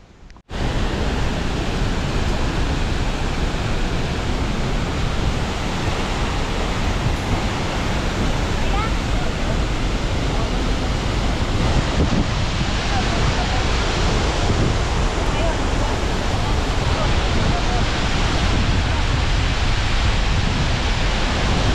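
Two-storey waterfall at Limunsudan Falls in Bukidnon, a steady, loud, broadband roar of falling water that stays constant and close throughout with no other sounds.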